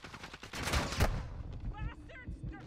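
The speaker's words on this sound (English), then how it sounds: "they're shooting at me!" Modern Warfare 2 gunfire, a quick cluster of sharp shots in the first second, followed by quieter game noise and a voice talking briefly near the end.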